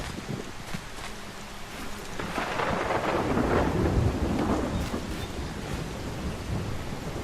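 Rain and thunder in the video game Solarpunk: steady rainfall hiss with a long rolling rumble of thunder swelling in the middle and fading out, no voices.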